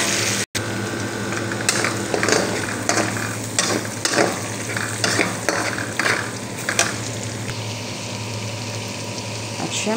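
Garlic and onion stir-frying in a pan for chop suey, a continuous close sizzle broken by repeated scraping, clattering strokes of a spatula at an uneven rhythm, with no talk.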